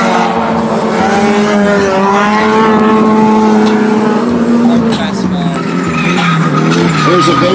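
Drift car tires squealing in a long sustained skid with engine roar at a grassroots drifting event, loud and continuous, under commentator talk over a PA.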